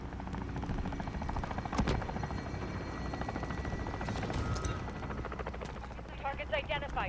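A video game helicopter's rotor, from Modern Warfare Spec Ops' Kuvalda mission, thrums steadily throughout, loud and close, with game sound effects and other noises layered over it.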